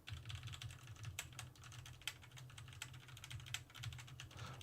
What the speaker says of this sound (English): now I'm going to start hitting the keys on my keyboard